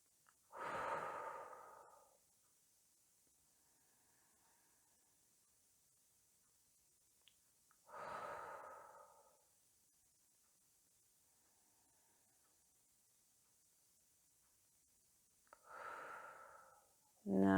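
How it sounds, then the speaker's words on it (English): Three slow, deep breaths during a guided relaxation exercise, drawn in through the nose and let out through the mouth. Each exhale is a soft, breathy rush, spaced several seconds apart, with quiet in between. "take a few deep breaths in through the nose and out through the mouth"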